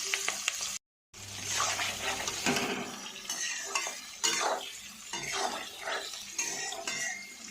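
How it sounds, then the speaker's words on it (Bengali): Sliced onions fry with bay leaf in a wok, giving a continuous crackling sizzle broken by clinks and scrapes of stirring, with one brief silent gap near the start. "চলো পেঁয়াজগুলো এবার লাল লাল করে ভাজা হোক"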